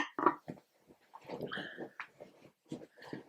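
A dog close to the camera whimpers and whines in a series of short, high, uneven cries with brief pauses between them, fairly soft and heard on its own.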